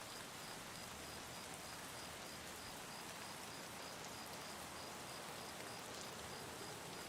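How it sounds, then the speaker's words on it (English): Rain falls steadily in a video game, a soft, constant hiss of drops with no breaks, faint and even throughout. "It's raining."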